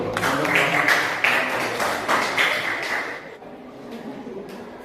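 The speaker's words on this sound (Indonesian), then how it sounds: "Ya, tepuk tangan dulu." A class audience gives a dense burst of applause after a group presentation, steady for a few seconds before thinning out into a few faint trailing claps.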